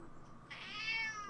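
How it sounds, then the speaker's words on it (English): A cat meows once, a clear, drawn-out, rising call heard close by in a quiet room after a brief low murmur. "I didn't know there was a cat back here."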